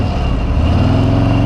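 Harley-Davidson Street Glide V-twin engine runs with a loud, steady, deep rumble throughout the short stretch, close by and with no talk over it.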